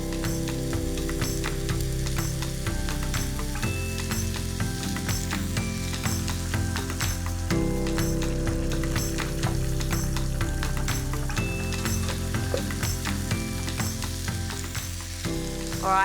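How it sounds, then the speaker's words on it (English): Prawns coated in rice flour deep-fry in hot oil, a dense, steady sizzle and crackle running unbroken at close range with no voices. "I'm going to do this in small batches. You'll know that these are cooked when they become golden brown"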